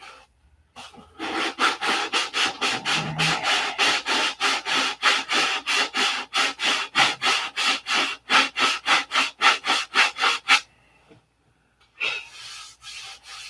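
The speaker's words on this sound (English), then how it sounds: "I gotta sand it out." A fiberglass aircraft cowl is sanded by hand in long, even back-and-forth strokes, a close raspy scrubbing rhythm of about two dozen passes that stops briefly before a final short stroke.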